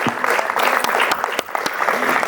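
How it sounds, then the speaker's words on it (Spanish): Audience applause fills a book fair hall in San Pedro Alcántara, a dense, steady wash of many hands clapping with a few sharper claps standing out, loud and close throughout. "yo pido un aplauso para ella y su familia que está aquí con nosotros."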